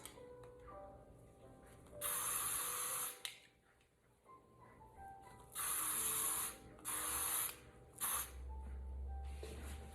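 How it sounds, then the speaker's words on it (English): Hairspray sprayed onto a section of short hair during curl styling, heard as three or four close hissing aerosol bursts of one to two seconds each, separated by quiet handling pauses. "Okay, so now I'm gonna spray this section."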